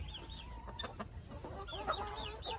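Roosters and hens on a small backyard chicken range cluck and call repeatedly, close by, over a steady background hum, with no talking.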